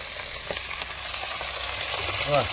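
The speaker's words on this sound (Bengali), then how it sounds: "মাছটাকে দিয়ে একবারে ভাজবো" Fish fries with cabbage and potato in a clay pot over an earthen stove: a steady, close hiss of frying oil runs throughout, with a faint clack near the end.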